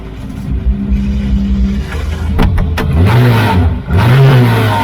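A Praga race car in a sim racing game revs hard as it pulls out of the pit lane. The loud engine note climbs and dips through repeated rising sweeps, with no talk over it.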